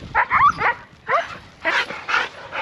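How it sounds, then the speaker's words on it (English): Several dogs on a walk give a string of close, loud barks and high yips in uneven bursts, with short pauses between them. "They're such nice dogs, but They're strong."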